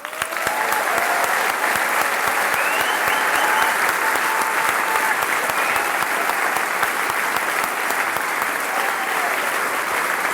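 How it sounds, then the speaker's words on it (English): A convention audience claps for the organizing committee, a dense, sustained round of applause from a large crowd that holds steady for about ten seconds without a break. "give them a hand of applause for what they've done"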